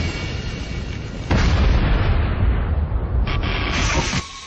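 A deep, heavy blast erupts suddenly and rumbles on loudly, with a second surge of roaring noise before it cuts off.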